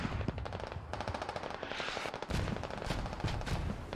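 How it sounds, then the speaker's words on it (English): Rapid bursts of gunfire and heavy booms roll on without pause in a Squad online military battle, dense and fairly loud across the whole stretch, with no clear talk over them. "here comes some artillery"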